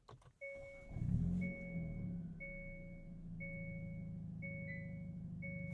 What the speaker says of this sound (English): Feisty noises from that 2-liter turbo 4-cylinder on startup